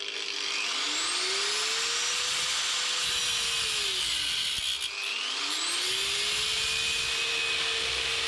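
Power tool cutting off a bolt on a Classic Mini bumper, a continuous loud whine that rises and falls in pitch in two long sweeps, with the motor briefly slowing between cuts.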